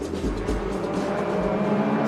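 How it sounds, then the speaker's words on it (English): BTCC touring cars race around the Brands Hatch GP circuit, their engines roaring loudly and shifting pitch as they pass, with faint tyre noise and no voices. "So cars making their way around at the moment."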